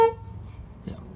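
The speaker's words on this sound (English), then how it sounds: "the horn should honk" A Buick LeSabre horn, with only one of its horns wired up and triggered by touching two contacts for an alternate horn button, gives one brief, clear honk at the very start, then fades to quiet.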